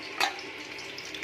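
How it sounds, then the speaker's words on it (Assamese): Fish frying in a pan, with a brief sharp sizzle burst near the start settling into a soft steady crackle, close and fairly quiet. "এতিয়া ভাজি আছোঁ মই মাছ"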